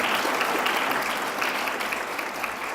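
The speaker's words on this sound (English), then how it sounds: "Can I have another round of applause for them?" Sustained audience applause at an awards ceremony fills the room, a dense, steady wash of many hands clapping at close range with no voices over it.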